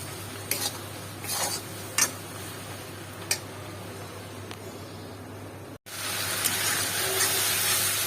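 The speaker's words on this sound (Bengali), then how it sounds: "মশলাটা আমি কষিয়ে নিচ্ছি" Spice masala of fried onion, ginger, garlic and ground spices being stirred in a pan: a few sharp spoon clinks and taps over a low steady hiss, then a fuller, louder sizzle near the end.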